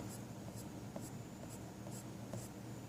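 Soft, steady scratching of a Prismacolor colored pencil on paper, with faint repeated strokes as the tip touches down and lifts off, close and quiet.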